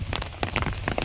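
Rain pattering steadily on surfaces in a Bengal village during the monsoon, a dense close patter of drops with sharper individual splashes, loud and without voices.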